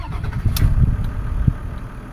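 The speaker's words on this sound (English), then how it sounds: "And that's the car running" A 1998 Toyota Land Cruiser 100 engine cranks and catches, then settles into a close, low, rough running rumble with a few brief mechanical clicks.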